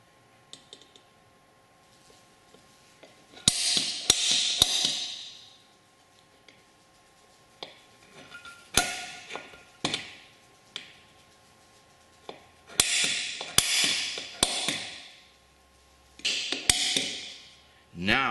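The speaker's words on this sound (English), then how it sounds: "So I'm going to go ahead and punch these." Several sharp metallic taps in small clusters, separated by quiet pauses, close and crisp, from a center punch marking metal before drilling.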